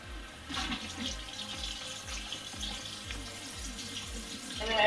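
Tap water runs steadily into a sink while a face is washed after makeup removal, a close, continuous splashing stream with soft irregular patter throughout and no talking.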